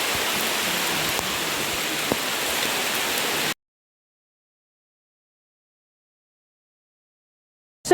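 Steady, dense rain pours at Wli Waterfalls, a loud, even hiss with a couple of sharper drop impacts, cutting off abruptly partway through and followed by silence.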